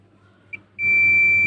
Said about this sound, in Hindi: ये देखो, बीप बजर आ रहा है।